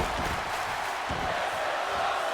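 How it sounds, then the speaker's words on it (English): A wrestling video game arena crowd roars in a steady, dense wash of noise that swells into a rhythmic chant, loud and continuous throughout. "As a chant of "This is awesome" emerges from the crowd."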